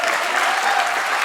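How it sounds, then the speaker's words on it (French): A theatre audience applauds a stage technician at the end of a cabaret show: dense, steady clapping that fills the room without a break. "On peut l'applaudir, merci."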